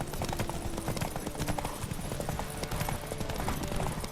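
Roach the horse galloping in The Witcher 3, a steady rapid clatter of hooves close and loud, with game music and ambience beneath, continuous throughout.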